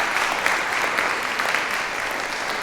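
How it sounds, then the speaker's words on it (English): An audience at an evening panel discussion gives a sustained round of applause, a steady dense patter of many hands filling the room at moderate loudness. "Please give them a round of applause."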